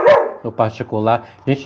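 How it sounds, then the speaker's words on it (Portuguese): A pet dog indoors barks and yips several times in short, loud bursts during a live online talk, overlapping with a person speaking nearby. "desculpa o barulho, mas é o meu cachorro"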